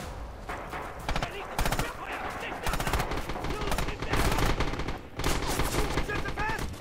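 Machine gun fire in Red Orchestra 2 at Stalingrad: dense, continuous automatic bursts rattle loud and close for several seconds, layered with other gunfire and with voices under the shooting.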